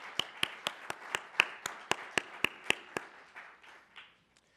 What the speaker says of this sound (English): Let's give a nice round of applause to our presenters.